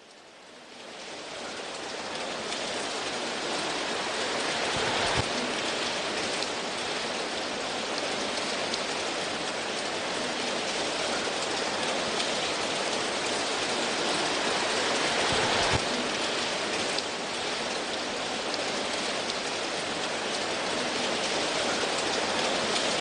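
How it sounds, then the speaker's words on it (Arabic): Heavy rain pours steadily on city streets in Algiers, a dense continuous hiss throughout with a couple of low thumps, no voices. "بسبب سقوط الأمطار التي اجتاحت العاصمة"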